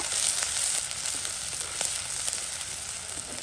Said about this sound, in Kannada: 1 ಈರುಳ್ಳಿಯನ್ನು ಹಾಕ್ತಾ ಇದ್ದೀನಿ. ಈರುಳ್ಳಿ ಸ್ವಲ್ಪ ಕೆಂಪಾಗಬೇಕು